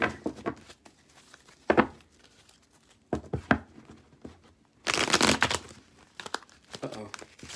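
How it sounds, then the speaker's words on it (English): Tarot cards shuffled by hand in uneven bursts of riffling and crinkling, close and moderately loud, with quiet pauses between the shuffles. "I don't know what's going on with my shuffling today"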